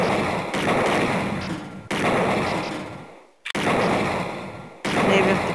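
Loud, heavy gunshots from the Snatcher video game crack out in three or four separate bursts, each ringing out and decaying before the next one hits.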